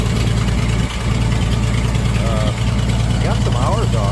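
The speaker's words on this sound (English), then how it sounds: "You hear that manifold gasket?" An antique tractor engine with a leaking manifold gasket runs at a steady loud idle, its low rhythmic chug dominating, while people talk briefly over it.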